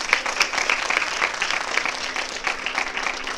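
Audience applause for a high-school accompanying artist at a Purandara Dasa Aaradhana music event, steady dense clapping from a crowd sustained throughout.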